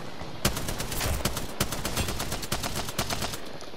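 Dense, continuous rapid gunfire from Apex Legends, sharp repeated shots crackling loudly with no break and almost no voices.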